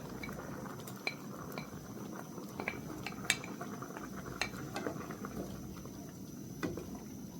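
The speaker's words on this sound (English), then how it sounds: "So now I crush my pumpkin and I'm putting it right back into the pot" Crushed pumpkin goes back into a cooking pot with a wooden spoon, giving a faint low rumble of simmering broken by light clinks and taps of the spoon on the pot.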